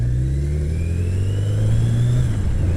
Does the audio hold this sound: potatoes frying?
no